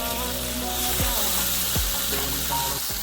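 Gravy poured into melted butter in a hot pan sizzles and fries steadily at close range, with a few soft clinks and stirring sounds.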